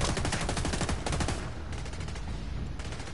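Continuous gunfire in The Division 2, a dense, loud stream of rapid shots with overlapping cracks that runs for the whole three seconds, close and without any talk.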